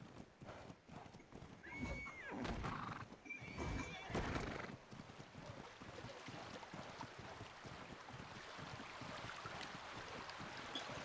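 Horse hooves clip-clop with two distinct neighs in the Ark Ragnarok game, set against rushing wind or water ambience that continues steadily after the whinnies fade.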